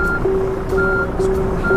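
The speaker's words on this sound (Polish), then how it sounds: "Coś pika." A vehicle's reversing alarm in GTA repeats a loud, steady electronic beep about four times at an even pace. A low engine rumble runs underneath, and no one speaks over it.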